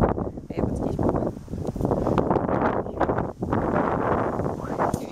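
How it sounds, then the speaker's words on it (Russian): Strong gusting wind buffets the microphone on a hilltop at Chertovo Gorodishche rock outcrop near Yekaterinburg, a continuous loud roar that dips briefly before surging again, with no talk over it. "Ветер дикий."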